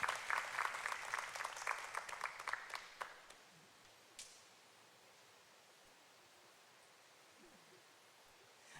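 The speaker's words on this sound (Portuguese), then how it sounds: "Aplausos." Church congregation applause at a worship service, a burst of scattered clapping that fades within a few seconds, followed by a quiet room with faint rustling.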